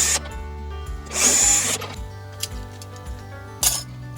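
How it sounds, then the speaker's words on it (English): A power drill boring a couple of pilot holes for fitting an auto gate latch, with short loud bursts of high whine separated by quieter clinks and handling noise, close by. "Then make a couple of pilot holes."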